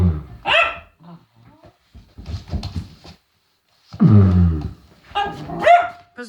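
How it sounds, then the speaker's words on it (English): A dog lets out several barks and yips in short bursts with pauses between, close and fairly loud, some sounding whiny and uncertain, with no talk during the clip. "Clover, you're supposed to bark."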